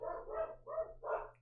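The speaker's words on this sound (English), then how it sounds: "they are barking because somebody's outside walking their dog currently" Indoor dogs bark in four short, rough barks in quick succession, fairly close but moderately quiet, over a low steady hum.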